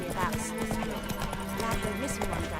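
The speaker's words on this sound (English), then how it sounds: "Geralt sets off on his horse." Rhythmic hoofbeats of a horse galloping along a path in The Witcher 3 video game, quick repeated thuds with a voice talking over them.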